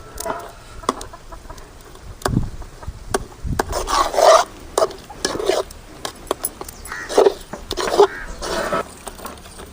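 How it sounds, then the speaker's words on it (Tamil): A spoon scrapes and rasps against a pan of cooking urad dal Mysore pak in repeated, uneven strokes, close up, with soft clinks between stirs. "கணக்காக அடுப்பரிச்சு கிளறிக்கிட்டே இருக்கணும்."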